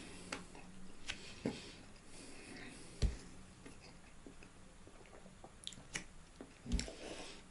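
Quiet close-up chewing of shawarma with fresh cabbage, with a few sharp crunchy bites spaced out over several seconds, soft mouth sounds in between, no talking.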